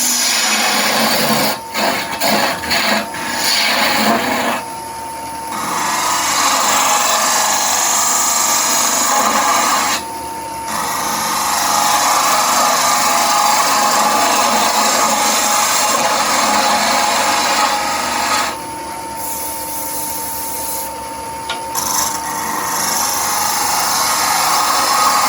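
A chisel cuts a wooden goblet spinning on a wood lathe, giving a loud, continuous rushing and scraping sound. The sound cuts out briefly a few times and then resumes as the tool is lifted and reapplied.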